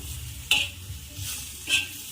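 Green chillies sizzle and fry in hot oil while a utensil stirs them, with two sharp scraping strokes against the pan.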